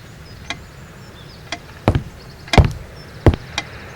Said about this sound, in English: Just more creaky floor.